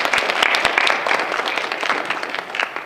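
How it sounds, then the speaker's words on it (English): Audience at a National Honor Society induction ceremony applauding with dense, continuous clapping that fills the room, strongest at the start and tapering slightly. "have all of you give them a round of applause for the hard work they put"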